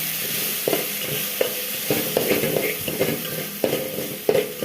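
Coriander powder, turmeric and salt being stirred into rice with a spoon, giving rhythmic scraping strokes against the pot roughly every half second over a soft background hiss, fairly close, no voices.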